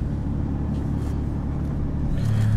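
A car's engine hums and its tyres rumble steadily from inside the cabin while driving, with a low continuous drone that holds even and close, without speech.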